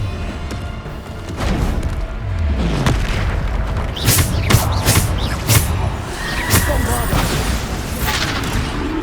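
Bombarda explosion spells in the Hogwarts Legacy video game erupt repeatedly as loud booming blasts over continuous battle noise, several sharp detonations in quick succession, with voices mixed in.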